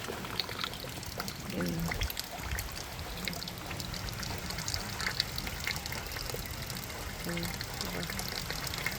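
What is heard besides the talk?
collected rainwater pouring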